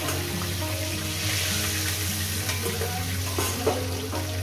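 Fish frying in hot oil in a pan, a continuous close sizzle with a low steady hum underneath and a few light clinks near the end, no voices.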